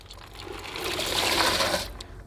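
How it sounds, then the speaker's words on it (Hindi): Mustard seed cake is poured into five litres of water, making a steady rushing, splashing pour that swells and holds for about two seconds, close and fairly loud with no talk over it. "5 लीटर पानी में ये जो सरसों की खली है हम पूरे डाल देंगे ऐसे करके"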